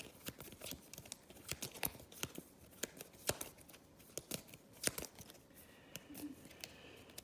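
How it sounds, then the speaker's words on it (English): Cards being shuffled for an Arkham Horror board game, with a quiet, steady run of soft riffling slaps and flicks close to the mic and no talking. "and shuffle, shuffle."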